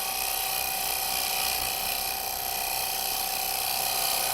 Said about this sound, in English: The cutter is now shearing through the fibres of the grain.